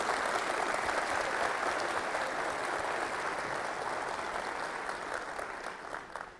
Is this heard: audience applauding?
yes